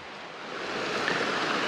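Stream water rushing through a hiking trail crossing on Dockery Lake Trail, a steady close hiss of flowing water that swells slightly louder and continues without any voices.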